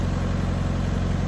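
Tractor engine running steadily with an 8-foot reverse PTO snowblower attached, a low, even rumble close by that carries on unbroken.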